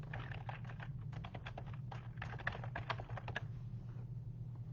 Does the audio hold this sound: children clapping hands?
no